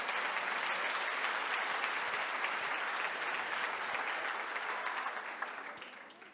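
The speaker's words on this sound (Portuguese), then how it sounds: "Vamos aplaudir a palavra de Deus." A church congregation applauds during a service: dense, continuous clapping from many people fills the room at steady strength, easing off slightly toward the end.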